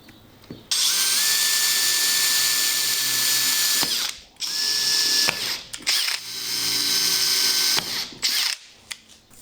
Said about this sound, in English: Now I'm going to take a very fine pilot drill and drill the 3 holes out.